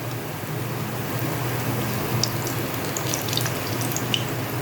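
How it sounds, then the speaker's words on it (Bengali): Fish roe fritters bound with grated onion, salt and gram flour frying in hot oil, giving a dense, even, rain-like sizzle with small crackling spikes, close and steady, no voices. "এবার এখানে বড়া ভাজা হচ্ছে।"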